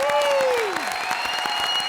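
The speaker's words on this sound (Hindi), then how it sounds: "यार जोरदार तालियां मार दो" Studio audience at a Hindi comedy show breaks into steady, loud applause, dense clapping filling the whole moment with a brief tonal sweep near the start.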